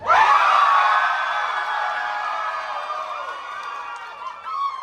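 An audience at a live drag show screams and whoops, a loud, sustained roar of high-pitched yells and cheers that holds for several seconds and swells again at the end.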